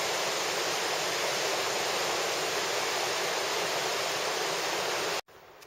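The Snoqualmie River rushes beside a gravel trail, a dense, steady roar of flowing water that is close and loud throughout, cutting out abruptly near the end.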